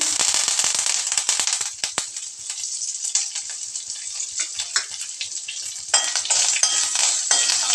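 Curry leaves sizzle and crackle loudly in hot oil with popped mustard seeds and broken dried chillies, a steady spattering hiss with sharp pops throughout and a fresh burst of sizzling partway through.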